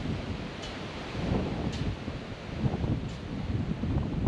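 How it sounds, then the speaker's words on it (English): Strong gusts from a storm cold front with an embedded squall line roar across an open field, a loud, continuous rumbling buffet that swells and eases, with faint high streaks above it. "that wind is whipping"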